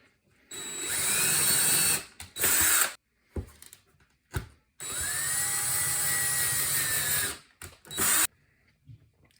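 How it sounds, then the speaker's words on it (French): Power drill boring holes in wood, running in two long bursts with several short trigger pulses between, its whine rising and steady, close and loud with no talking. "On peut commencer doucement pour s'assurer de percer tranquillement le bois."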